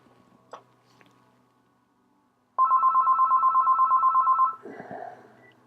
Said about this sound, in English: that was a phone call, sorry.